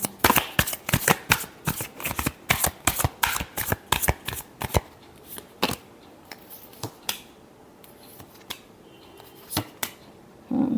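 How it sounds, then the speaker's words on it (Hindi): Tarot cards are shuffled by hand in a quick run of crisp, slapping riffles. The bursts are rapid at first, then sparser. It is close and clear with no talking, and a final few taps come at the end. "क्या स्कॉर्पियो के पर्सन एक्शन लेंगे? Last shuffle."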